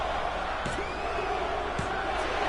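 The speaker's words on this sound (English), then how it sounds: "Crowd chanting one more time." A wrestling arena crowd roaring and chanting in a dense, steady wash of massed voices, with a few sharper shouts rising out of the din.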